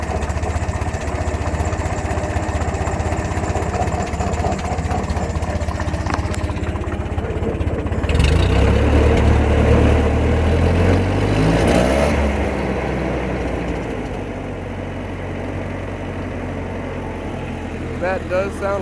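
A cheap refurbished tractor engine idles steadily after carburetor adjustment, a close, even mechanical chug that swells briefly then settles, with someone talking over it.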